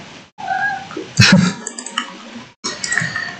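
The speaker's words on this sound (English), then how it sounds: "Why are you meowing like that?" Close, loud meowing from a pet cat, a drawn-out wavering caterwaul with a sharp clicking burst partway through, then a short pause before another meow.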